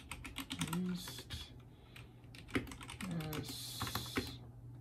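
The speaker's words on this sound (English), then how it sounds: "I'm messing up typing all over the place" Fast, uneven typing on a computer keyboard, close clicks arriving in bursts with brief pauses between them.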